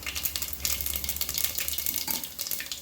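Whole spices, a bay leaf and fennel seeds, tempering in hot oil for chicken biryani, giving a loud, dense, continuous sizzle with fine crackling close by and no talk.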